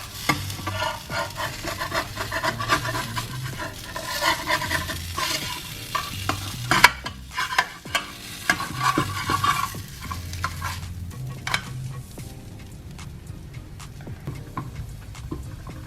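Quinoa fajitas cooking in a pan give a steady close sizzle of frying, with continuous stirring and scraping throughout and no voices.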